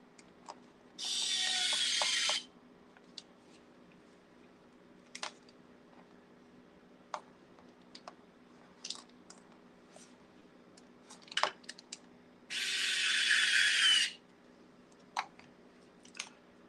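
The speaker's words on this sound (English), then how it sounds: "And step screw, large M4 step screws through the top." Large M4 step screws being driven into a Tamiya CC-02 RC car kit, two sustained whirring bursts from a small power driver, separated by scattered clicks and parts handling over a faint steady hum.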